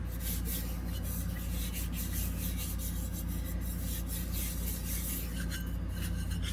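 Burnishing tool rubbed over fine dipping powder on a tumbler, a soft, continuous close scraping and brushing with steady rhythm and no talking.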